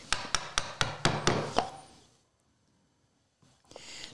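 A chisel is struck by a mallet while cutting a hand-cut dovetail to the baseline, seven evenly spaced sharp knocks, then near silence and a faint scrape.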